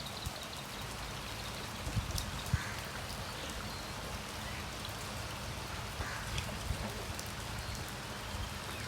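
Steady rain falling on open farm fields of organic paddy, a soft continuous patter with scattered louder drops, moderately faint and with no voices.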